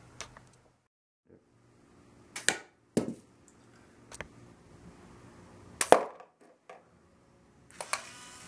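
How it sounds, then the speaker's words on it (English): Homemade wrist-mounted electromagnetic coil web shooter firing a small projectile: a handful of sharp, separate snapping clicks spread across the quiet clip, close and fairly loud, with faint low hum between them. "This coil fires the little projectile here."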